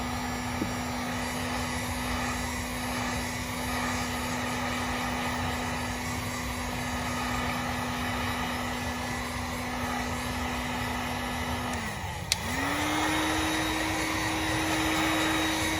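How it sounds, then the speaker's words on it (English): A heat gun warming the emblem area of a Tesla, giving a steady whirring blower drone with a tonal hum that dips briefly near the end after a click, then resumes slightly higher. "So I'm gonna use my heat gun just to heat this up a little bit"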